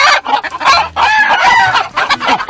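A flock of about thirty farm chickens clucks loudly and busily close by while a rooster crows among them, overlapping calls in rapid bursts with no talk.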